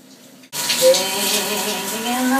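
Shower fed by a gas hot water system in a shipping container house bursts on after a moment of quiet, a steady close hiss of spraying water that holds loud and even to the end.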